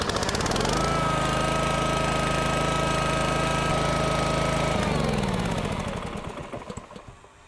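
Small gas engine on an EZTC206 unit fired by electric start, running loud and steady with a heavy rhythmic chug, then dropping in pitch and fading as it winds down; no talking.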